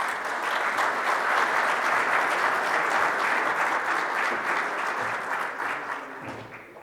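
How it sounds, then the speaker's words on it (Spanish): Sustained audience applause at a cybersecurity summit as a speaker is welcomed onto the stage, a steady dense clapping that holds for several seconds and thins slightly near the end. "con un fuerte aplauso, la vamos a recibir para que ella suba a este escenario."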